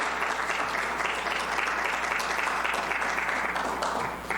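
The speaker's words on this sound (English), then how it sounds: "If we could just give them a round of applause, because they've worked really hard this whole year." A hall audience gives a round of applause, dense and sustained clapping at a steady level that carries on evenly for several seconds and then tapers slightly at the end.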